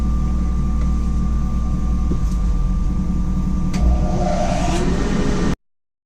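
A wood lathe spins a spalted maple chip and dip tray at nearly 1200 RPM, a steady loud motor hum with tonal whine, while a half-inch bowl gouge scrapes the wood late on before the sound cuts off abruptly.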